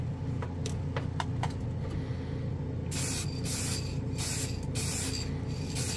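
Hobby matt clear varnish sprayed from an aerosol spray can onto a model surface: several short hissing bursts at a close, steady level, each separated by brief pauses, over a low background rumble.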